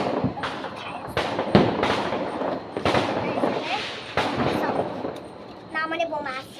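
Small firecracker bombs go off at a home celebration: a string of sharp, close bangs and crackles bursts at irregular intervals, with a brief hissing sparkle near the end.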